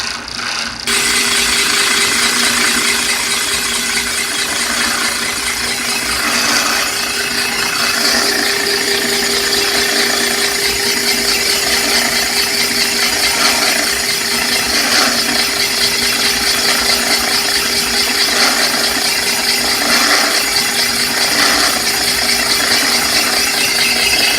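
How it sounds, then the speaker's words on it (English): Van Norman 900 boring bar feeding down an engine cylinder, a constant loud mechanical whir with a faint rattling texture, running steadily and close without a break. "And now the boring bar will be feeding down the cylinder."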